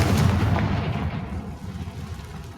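A Confringo spell explosion in the video game Hogwarts Legacy, one deep booming blast up front that rumbles and fades away over a couple of seconds.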